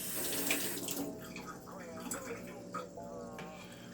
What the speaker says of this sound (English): Let me give this a little rinse.